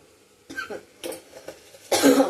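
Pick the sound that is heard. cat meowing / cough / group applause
cough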